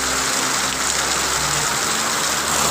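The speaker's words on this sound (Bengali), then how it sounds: "সকলে দাঁড়িয়ে পড়েছে প্রবল বৃষ্টির কারণে" Heavy rain pours steadily onto a street, a dense, loud and constant hiss close by, with a faint low rumble of vehicle engines underneath and no talking.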